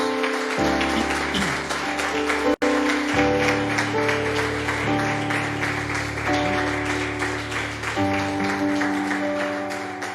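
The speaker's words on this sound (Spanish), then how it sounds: "Démosle un aplauso fuerte a nuestro Dios." Church congregation clapping for God at the end of a Spanish-language service, the applause moderate and spread across the room over sustained music from keyboard or organ.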